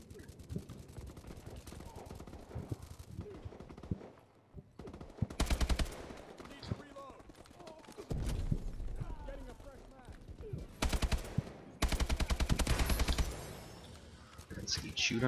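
Bursts of AK-12 automatic fire in Call of Duty: Advanced Warfare come in several rapid loud volleys separated by quieter stretches of game sounds and mechanical clicks, with a player talking over parts of it.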